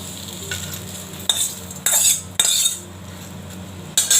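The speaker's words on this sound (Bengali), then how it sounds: "এবার বেগুনটা দিয়ে দিচ্ছি" Eggplant pieces fry in hot oil for jukti phool, a Bengali snack, with a close, steady sizzle. A few sharp bursts of metal scraping and clatter come from a spatula working the pan, with no voices.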